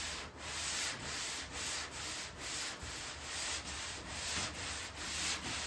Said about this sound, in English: we'll see after we block sand it. So I got my cheap O'Reilly's block and 320 grit